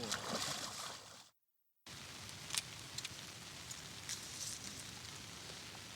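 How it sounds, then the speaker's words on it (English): Steady rain patters on a surface with a dense hiss and scattered louder drops, cut by a brief moment of silence before it continues. "Nothing like a bit of rain, Nato."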